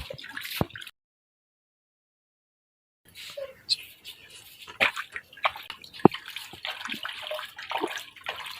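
Female rabbit being bathed in cold water, with splashing and dripping sounds, irregular sloshes and small gurgles up close, a brief silent gap partway through, faint voices mixed in.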